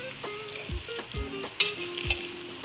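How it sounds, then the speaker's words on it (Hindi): Oil crackles and sizzles in a pan as spices are tempered for mango pickle, with scattered pops and a few clinks of a spoon against metal. "अब इसको तड़का लगेगा।"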